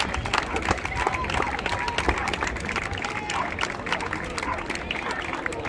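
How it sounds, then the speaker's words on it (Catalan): A large outdoor crowd claps loudly and steadily for the giant figures at a giants' gathering festival in Súria, with dense overlapping hand claps and a murmur of voices throughout. "un fort aplaudiment per aquests gegants"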